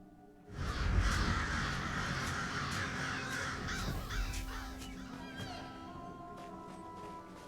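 Crows caw over a dense, loud game soundscape in The Elder Scrolls Online, their harsh calls mixed among ambient noise and other sounds rather than standing alone.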